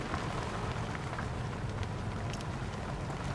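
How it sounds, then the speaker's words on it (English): Steady rain falls on an allotment just after a brief spell of hailstones, a continuous close patter with no voices over it. "We had a few hailstones and now it's raining."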